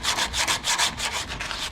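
Hand sanding soft, slightly beady body filler roughed in on a 1951 Chevy custom, a rhythmic scratchy back-and-forth rasp with about nine close, steady strokes and no talk.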